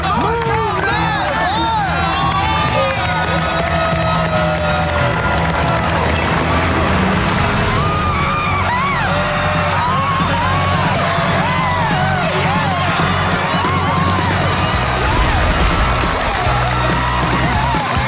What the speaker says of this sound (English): I think we absolutely should move the bus.